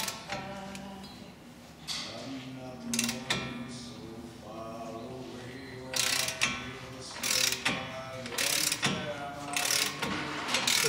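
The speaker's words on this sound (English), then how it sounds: "you're going to use the 1/2 inch ratchet along with the 1 7/16 socket or 32 millimeter. Go ahead and break it loose." A 1/2 inch ratchet fitted with a 32 mm socket clicks in several short bursts while breaking loose a wheel hub nut, the quiet mechanical ratcheting separated by brief pauses with no talking.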